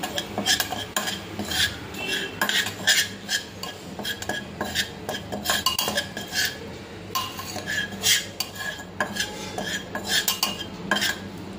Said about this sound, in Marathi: हे छान आपण मिक्स करून घ्यायचं आहे, भाजून घ्यायचं आहे छान हे बाजरीचं पीठ